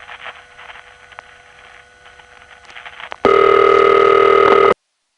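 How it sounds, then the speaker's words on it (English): An old panel-type telephone exchange gives its ringback tone while a call waits for a recording. Faint line noise comes first, then one loud, steady ring burst starts abruptly and cuts off just as sharply. "the ring they use for a sound effect waiting for the recording to get around is this"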